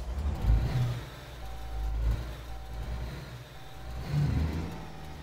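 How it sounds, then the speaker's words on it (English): Heavy truck reverse-parking in the video game Alaskan Road Truckers, a steady low engine rumble with intermittent reversing beeps repeating through it, no talking. "Nice little reverse park."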